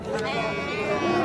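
Lambs bleat nearby at a livestock market in Olti Ariq, Uzbekistan, in a short, busy burst, their calls overlapping with a voice talking.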